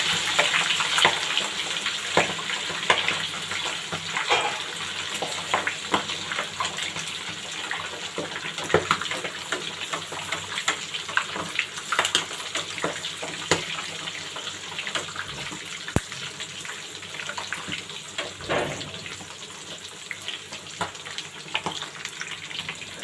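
Onions frying in oil that has been heated through for a Lahori chargha, giving a steady dense sizzle and crackle with scattered pops, close and continuous throughout, with no talking.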